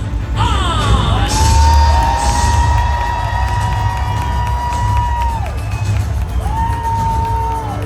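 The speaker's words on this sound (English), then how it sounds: "Please make some noise for your founder and chairman, Mr. Jun Kyung-an." A large crowd at a convention in Las Vegas cheers and whoops loudly and continuously. Shouts rise over the din, and a long whistle-like tone sounds above it.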